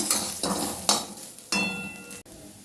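Gobindobhog rice is fried and stirred in a pan for a banana-stem pulao; about four scraping strokes of the spoon rise over a soft, close sizzle, followed by a sharp clack.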